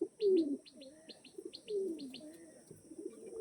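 Soft, throaty cooing from Andhra pigeons close by, repeating in rolling phrases, with quick high chirps from other birds mixed in.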